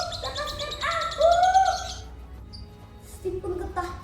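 A parrot (burung bayan) calls in a storybook scene, a run of loud, harmonic squawking notes for about two seconds, then quieter bird chirps with a bit of background noise.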